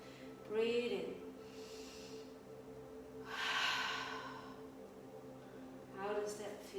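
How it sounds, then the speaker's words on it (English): Throaty breathing with a gurgle in the throat during a yoga breathing exercise, with three loud breath bursts, each a rasping pull of air, spaced a few seconds apart over a low steady drone. "Let's try it again so you feel a little bit of that gurgle in your throat."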